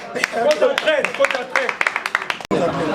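An audience claps to acclaim a coach, a patter of hand claps running beneath near, overlapping voices.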